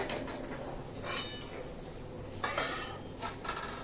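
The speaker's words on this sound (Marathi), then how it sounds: "आता दाणे भाजायला घेऊया" Peanuts roasting in a pan for tilgul ladoo while being stirred, with repeated scraping sweeps and light clinks of a spoon against the metal, close and moderately quiet, with a faint chirp in the background and no talking.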